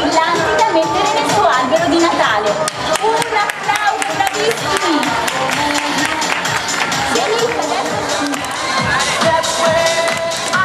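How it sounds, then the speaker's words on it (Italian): Christmas party audience cheering and clapping for children after a Santa Claus show, a loud, dense crowd roar with shouts and chatter running throughout. "Un applauso, bravissimi!"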